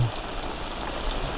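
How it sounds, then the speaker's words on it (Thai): Heavy rain falls beside a river during a fishing trip, a thick, constant hiss of drops that stays loud and unbroken throughout. "ตอนนี้ฝนตกแรงมากเลยครับ"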